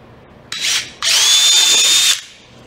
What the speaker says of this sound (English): 3/16 inch drill out of our drill index, and I'll use it to drill these holes